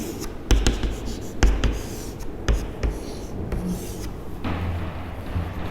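Chalk or marker scratching across a board during a matrix lesson, a few sharp taps and short strokes at the start, then softer continuous rubbing, close and alone with no talk.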